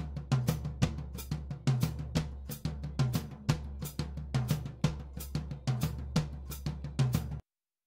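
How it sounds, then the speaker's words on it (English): Full drum kit captured by overhead microphones, a steady groove of kick and snare hits with bright cymbal wash over each beat, close and loud, alone with no talk. "So the overhead sounds like this."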